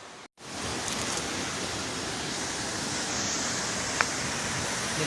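A waterfall in Bataan rushes in a steady, dense roar of falling water after a brief dropout at the start, close and loud throughout with one faint click near the end.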